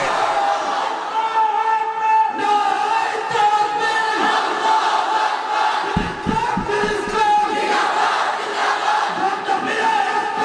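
At an Islamic waz sermon gathering in Sylhet, a large crowd roars a religious chant in unison in response to the preacher, a sustained loud mass shout that swells and lingers with some scattered voices.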